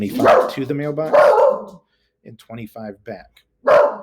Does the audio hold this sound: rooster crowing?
no